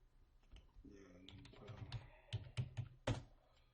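Keystrokes tapped on a computer keyboard while a command is entered on a server, a run of soft clicks and heavier key thunks building to a few firm presses near the end, with faint voice in the background.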